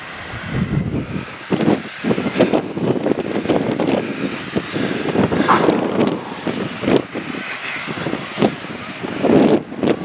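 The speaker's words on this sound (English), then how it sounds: "it's a bit windy. Oh, very windy" Strong, gusty wind buffets the microphone throughout a countryside walk between Todmorden and Walsden, a constant loud roar with sharper bursts and no clear talk.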